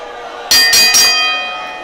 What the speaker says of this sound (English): Referee calling for the bell.